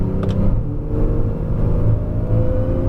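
Porsche 911 Carrera S accelerating on the Circuit du Laquais track, a continuous loud engine rumble heard from inside the car, rising steadily without a break.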